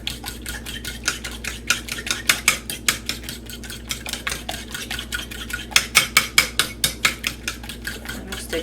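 A fork beats French toast egg mixture in a bowl, making rapid, regular clinking taps against the sides, up close and steady for several seconds without speech.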